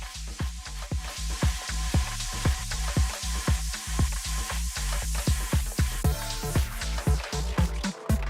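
A wet synth chord stem with reverb plays back during track feedback, steady and full with a regular rhythmic pulse of short percussive hits throughout, no voices.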